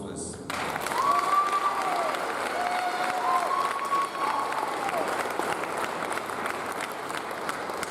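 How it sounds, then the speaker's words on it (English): An audience at a Year 11 school prize giving applauds steadily for several seconds, a dense wash of clapping with a few voices rising above it. "Round of applause, please."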